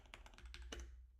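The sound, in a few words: typing notes on a computer keyboard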